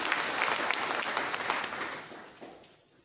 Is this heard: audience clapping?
yes